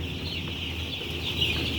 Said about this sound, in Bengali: মুরগি অনেকটাই সুস্থ আছে আলহামদুলিল্লাহ